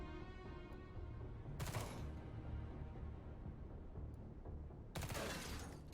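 Two sharp, loud ballistic rifle shots in an alien-invasion video game, spaced about three seconds apart over a low, steady ambient rumble.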